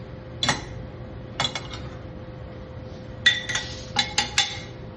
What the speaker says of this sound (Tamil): அதை இப்ப ஒரு பிளேட்ல மாத்த போறேன்.